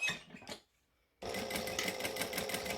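A sewing machine stitching quilt fabric, a short burst of stitching, a brief pause, then a steady fast run of needle strokes close by.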